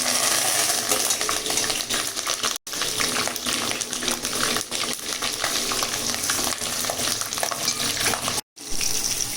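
Green chilies and curry leaves crackle and sizzle in hot oil for a fish curry, a dense steady frying hiss with scattered pops, broken by two brief dropouts.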